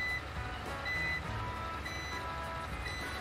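A UPS unit beeps during a storm power outage, its steady repeated tones sitting over a continuous noisy background with low rumble, fairly loud and close.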